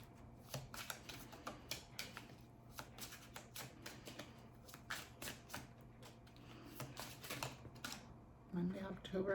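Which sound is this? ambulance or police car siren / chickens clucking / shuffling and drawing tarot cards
shuffling and drawing tarot cards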